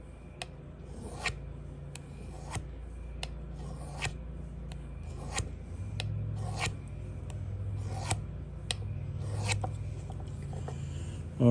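A knife cuts into leather while a keychain is being tooled, producing a series of short, crisp cutting strokes at irregular intervals, close and fairly quiet over a low background hum.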